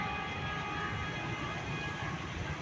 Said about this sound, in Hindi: अब अवाम एक्सप्रेस भी गुजरावाड़ा रेलवे स्टेशन पर पहुंच चुकी है।